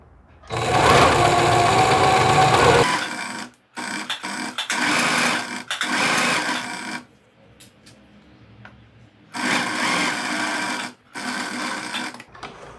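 Sewing machine stitching a seam on a Japanese-sleeve dress, loud close whirring runs in several bursts broken by brief stops and a longer quiet gap, no talking.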